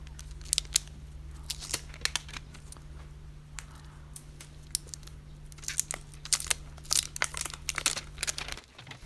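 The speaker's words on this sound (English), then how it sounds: "So let's open the phone. The packing is really cool." Packaging of a Nokia X6 phone being handled during an unboxing, with quiet, scattered crinkles, snips and sharp rustling clicks over a low steady hum, close up and without speech.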